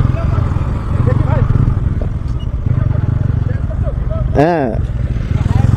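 A motorcycle rides along a road with a steady, close engine rumble and wind noise throughout, and a voice briefly calls out over it.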